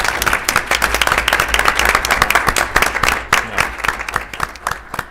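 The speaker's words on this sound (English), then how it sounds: "I think a round of applause is really absolutely" A small audience at a Stillwater city council meeting claps in a brisk round of applause, individual hand claps distinct and fairly close, continuing steadily for about five seconds.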